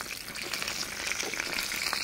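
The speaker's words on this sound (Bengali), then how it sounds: "হাঁসের তেলে বেগুন ভাজা" Eggplant frying in duck fat in a pan gives a soft, even, continuous sizzle and crackle, fairly quiet and close, with no talking.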